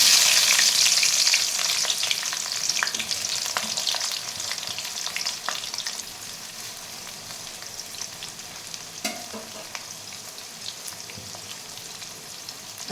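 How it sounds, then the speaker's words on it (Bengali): Onions hit hot oil in a wok already tempered with dried red chillies, bay leaves and garam masala for a chicken and potato curry, giving a loud, crackling sizzle that gradually settles into a softer steady fry, with stirring scrapes and no talking. "ফোড়নটা ভাজা হয়ে গেছে, এবার আমি পেঁয়াজ দিয়ে দিচ্ছি।"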